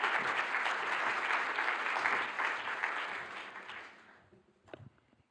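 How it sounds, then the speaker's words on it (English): Symposium audience applause at a plenary closing session, a thick, sustained roar of many hands clapping that fades away over the last second, followed by a faint thud. "And you can give him an applause"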